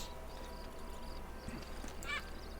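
Horse hooves clip-clop faintly in Red Dead Redemption on PS5, soft steady hoofbeats under low ambient background, with a brief whinny-like call near the end.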